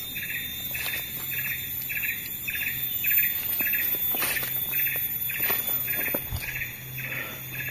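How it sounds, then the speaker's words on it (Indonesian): Birds chirp repeatedly in a forest with eucalyptus trees, bright rhythmic tweets over a steady insect-like buzz, moderately near, with no talking. "Jadi burung-burung mahal-mahal itu juga masih banyak di tempat ini."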